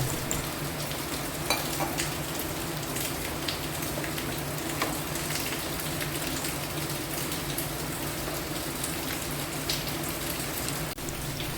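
Coconut milk egg curry simmers in a pan after thin second-press coconut milk is added, with a continuous, even bubbling and sizzling hiss. No voices.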